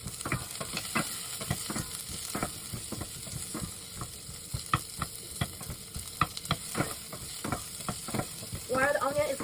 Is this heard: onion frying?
yes